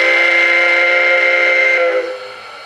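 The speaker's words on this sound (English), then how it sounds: "Baltimore and Ohio 3 chime." Baltimore and Ohio three-chime steam whistle played by a TCS WOW heavy steam model-train sound decoder: one sustained, loud chord blast that holds steadily and then trails off near the end, with no talk.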